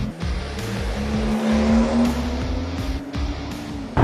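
A high-powered BMW M car accelerates hard during an acceleration test, its engine climbing steadily in pitch through gear changes with brief tire squeal, loud and sustained, with no talk.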